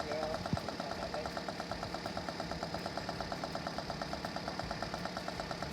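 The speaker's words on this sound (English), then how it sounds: "when your engine starts sounding like this, it's probably not long before it meets its maker" Failing car engine idling rough, a steady mechanical drone with a rapid, regular ticking knock and uneven vibration throughout, close and fairly loud.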